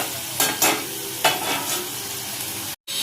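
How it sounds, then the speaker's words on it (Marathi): Onion, garlic and two pieces of chilli sauté in a pan, giving a loud, steady sizzle with a few scraping stirs and a brief dropout near the end. "हे आपण असं मिक्स करून घेऊ, मस्त परतून घेऊया"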